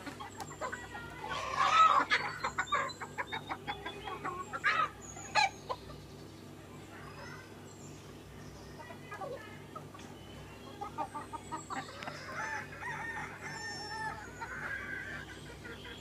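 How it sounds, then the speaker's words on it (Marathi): A village free-range rooster clucks in short bursts while feeding at a small backyard poultry farm in Ratnagiri, with a few louder calls early and scattered clucking later over a quiet farmyard background. "हे बघ आता कसा कोंबडा खातो या."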